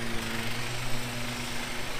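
A lawn mower engine drones steadily at close range, its buzzing hum holding an even pitch with slight flutter as it mows stripes into a lawn.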